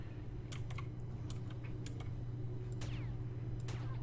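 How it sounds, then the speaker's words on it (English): Keys on a computer keyboard pressed during a Steam game, sharp clicks scattered across a few seconds over a steady low hum, no voices. "I can't left click it. I have to hit enter."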